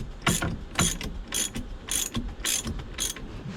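Classic Mopar steering column being tightened and locked into place, giving a series of sharp ratcheting clicks in about six quick bursts, close and fairly quiet with no talk.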